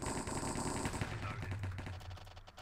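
Rapid sniper and pistol gunshots in a Minecraft cops-and-crims game, with a fast run of crisp shots over a continuous game backdrop that fades toward the end.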